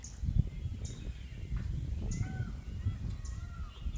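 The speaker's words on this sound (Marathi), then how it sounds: "आपला हा आवाज आहे तो मोराचा आवाज आहे" A few distant, drawn-out peacock calls ring out over low outdoor rumble at Panhala, coming and going at irregular intervals.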